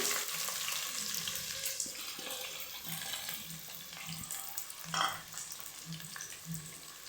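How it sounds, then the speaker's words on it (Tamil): Sliced onions sizzle in hot oil with bay leaves as the base for mutton biryani, a soft, fairly quiet frying hiss with light rhythmic stirring knocks and one louder scrape. "மீடியம் சைஸ் வெங்காயம் பெரிய வெங்காயம் கட் பண்ணி வச்சதை இதில் சேர்க்குறேன்"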